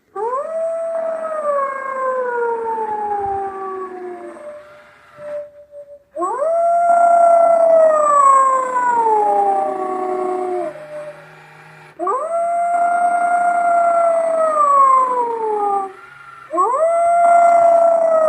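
A Home Depot crouching werewolf Halloween prop lets out long, loud electronic howls, four drawn-out rising-then-falling calls separated by short pauses, with a slightly garbled, synthetic tone.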